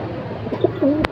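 A pigeon coos up close, a short soft throaty call with a rising-falling warble, heard alone for about a second.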